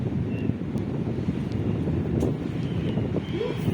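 Wind buffets a swaying cable-car cabin climbing to the Agadir Oufella kasbah in Morocco, a steady low roar and rumble of gusts against the microphone throughout, with no clear voices.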